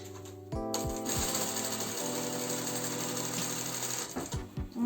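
A sewing machine runs steadily for about four seconds as it stitches the top seam of a flounced summer top, with a few clicks at the start and a soft stop at the end.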